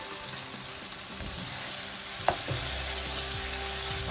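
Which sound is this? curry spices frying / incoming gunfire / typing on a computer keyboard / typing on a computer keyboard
curry spices frying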